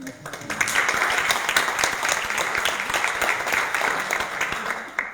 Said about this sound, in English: you might give her applause for this